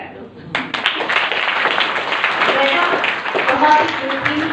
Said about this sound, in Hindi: पहले ताली बजा दो।